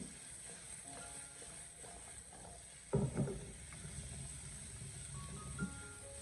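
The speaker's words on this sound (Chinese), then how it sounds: "这黄瓜下锅以后，我们再将这个火候调大一点点，进行快速的翻炒一下" Cucumber being stir-fried in a wok over raised heat: a steady low sizzle with scraping and clattering from the spatula, including one louder clank, under a constant background hiss.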